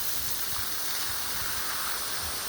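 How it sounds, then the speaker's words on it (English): Plants in a garden are watered with a continuous, soft rushing spray of water. The hiss stays steady and even for the whole stretch, at low level, with faint thumps underneath. "just watching me water the plants"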